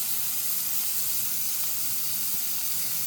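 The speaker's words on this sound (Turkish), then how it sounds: "Önce bunu mühürleyelim ki daha bir güzel pişsin etlerimiz mühürleme" Lamb chops sear in a hot pan, producing a constant, fairly quiet hiss and sizzle with no talking.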